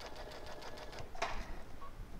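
Baby Lock sewing machine stitching quilt fabric, a faint, steady rapid needle chatter with one brief brighter clack partway through, heard close with no speech.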